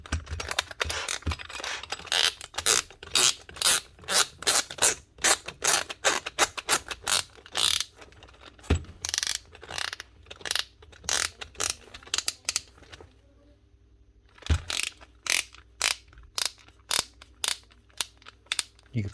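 Allen key being turned to remove the chuck from a power tool, a rapid series of sharp ratcheting clicks in bursts with a brief pause midway, close and clear with no talking.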